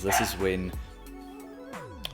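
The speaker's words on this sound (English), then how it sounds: "That's my dog." A pet dog gives a couple of quick, close barks at the start, and then someone talks over a faint background.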